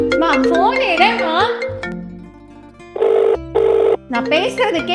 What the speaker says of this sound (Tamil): அம்மா அதான் ஃபோன் அடிக்குது இல்லையா